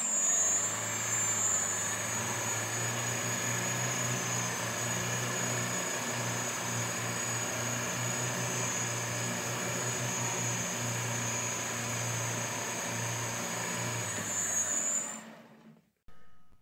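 A tethered hover cyclocopter runs continuously, its motors and rotating blades giving a steady droning hum under a sharp high-pitched whine, close and loud for about 15 seconds before stopping.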